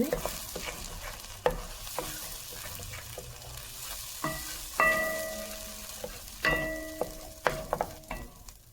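Shahi paneer masala being roasted in a pan, with a spoon scraping and knocking against the metal in irregular strokes over a low sizzle, fairly close and without talk.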